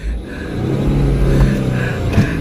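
A car engine hums steadily as the vehicle pulls forward in heavy rain, a low continuous rumble with a slight rise in revs, close and alone.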